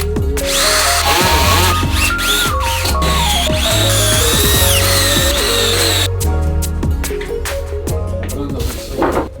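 A power drill bores holes for ordinary wood screws while building out a tiny home on wheels, whining loudly and continuously with shifting pitch as the bit speeds up and bites into the wood, close up and with no talking.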